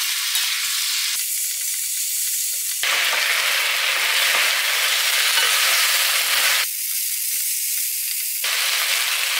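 Candied potatoes sizzle loudly in a pan after a spoonful of soy sauce is added, a continuous hissing fry that swells and shifts as they are stirred.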